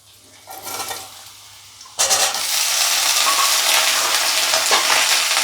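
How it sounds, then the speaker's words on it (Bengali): Potatoes drop into hot oil for a grandmother-style home recipe, breaking into a loud, steady sizzle that holds for several seconds after a quieter start. "তেলটা গরম হয়ে গেছে, এবার প্রথমেই আমি এতে আলুগুলো দিয়ে দেব"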